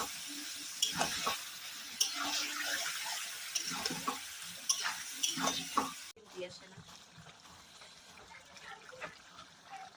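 Crushed garlic dropped into hot oil for a mutton and papaya curry, sizzling loudly in the first half with stirring scrapes, then settling to a quieter fry.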